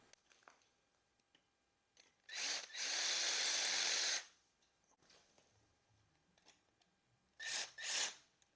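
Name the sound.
drill bit enlarging a hole in a brake post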